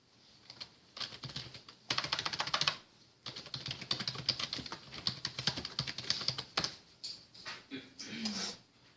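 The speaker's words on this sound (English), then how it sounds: "I typed into Google connective tissue of the heart." Fast typing on a computer keyboard while entering a search into Google, a steady close clatter of keystrokes running for several seconds with brief pauses between bursts.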